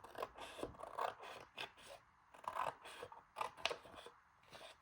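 Repeated crisp snips and rasping cuts of scissors slicing through paper along a score line, in an uneven rhythm of short bursts, close and fairly quiet.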